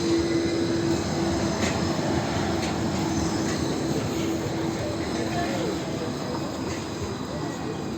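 A G-Link tram on the Gold Coast rolls past on its rails at close range, a loud, steady rumble of wheels with a thin, sustained squeal running throughout, no voices over it.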